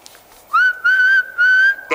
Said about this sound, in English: whistle me a tune then